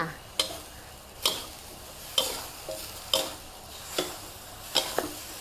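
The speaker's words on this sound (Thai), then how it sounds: "ทีนี้ก็ผัดให้แห้งเลยค่ะ" Rice noodles with pork and soy sauce stir-fried in a big wok with two spatulas, regular loud scraping strokes roughly once a second over a low sizzle, close and without talk.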